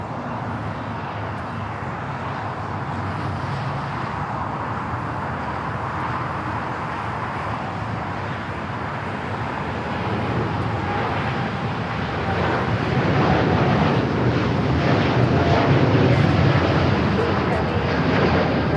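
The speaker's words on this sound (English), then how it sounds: "We got Air Tahiti Nui, Dreamliner heading to Paris, now rolling down to 25 right." An Air Tahiti Nui Boeing Dreamliner takes off on runway 25 right at LAX, its engine roar building from a distant rumble to a louder, fuller sound, with light wind noise throughout.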